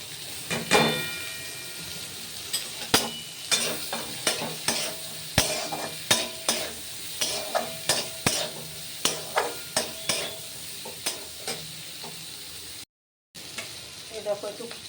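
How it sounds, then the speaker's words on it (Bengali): Potatoes, onions and capsicum fry in a pan under a steady sizzle, while a spatula scrapes and knocks against the pan in a regular run of sharp, close strikes, with a brief gap near the end. "আবার আলু পেঁয়াজ ভাজা হয়ে এসছে। এবার আমি কিছু ক্যাপসিকাম দিয়ে দেবো এর মধ্যে।"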